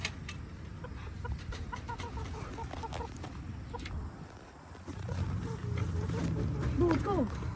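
A rooster among backyard chickens gives a few short clucks and squawks, fairly close, while a person talks over it, with a louder burst of calls near the end.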